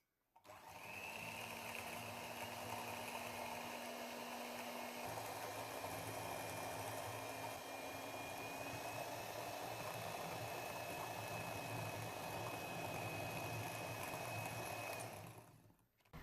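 An electric beater fitted with a single hook whirs steadily through batter, a loud continuous motor drone that starts abruptly, holds for about fifteen seconds with a slight pitch shift, then cuts off.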